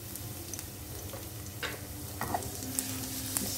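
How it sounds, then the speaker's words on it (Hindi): Cumin seeds and garlic sizzling in hot oil and ghee for a dal tadka, a soft steady frying hiss with small crackles and a spoon stirring, faint and close. "चलिए तड़के में फर्स्ट डालते हैं 1 टीस्पून ऑफ जीरा और 1 टेबलस्पून ऑफ गार्लिक।"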